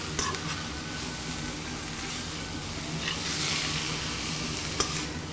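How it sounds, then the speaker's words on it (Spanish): Shredded beef sautés in a pan during Venezolanan home cooking, a steady broadband sizzle and crackle running throughout with a couple of brief sharper pops, close and moderately loud with no talking. "se deja sofreír bien"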